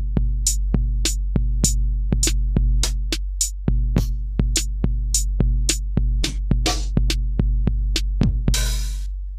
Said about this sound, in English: I now have all of my Akai drum samples loaded onto the pads.